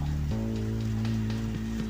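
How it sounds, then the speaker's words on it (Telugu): Steady rain hiss with scattered drop taps, over a constant low hum and faint tones that hold throughout. "కురుస్తుంది వాన"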